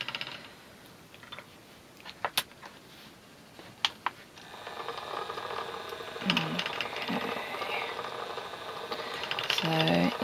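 An EEW Nano electric spinning wheel plying yarn: a few sharp clicks, then a soft steady motor whir that starts partway through and continues close and fairly quiet.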